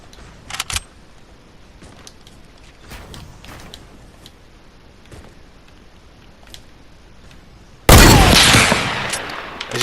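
Sniper rifle fire in a video game during a 360 noscope attempt: faint scattered clicks and taps, then one loud sharp shot late on that rings out and decays slowly, with no voices.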